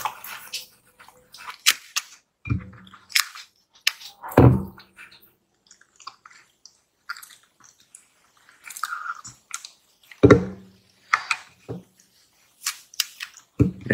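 A Pembroke Welsh corgi puppy chewing an apple up close, with scattered wet crunching bites and slurpy munching in irregular bursts separated by quiet gaps, no voices.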